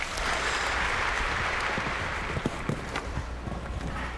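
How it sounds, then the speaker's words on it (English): A crowd applauds at a show jumping World Cup final in Las Vegas, a dense sustained wash of clapping that swells early and then thins. Some hoofbeat-like thuds come through underneath. "And again, a big round of applause from the crowd."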